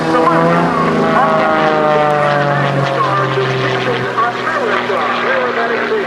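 Sukhoi S-300D aerobatic airplane flown by John Klatt at an air show, its loud propeller engine droning steadily with shifting pitch as an announcer talks over it throughout.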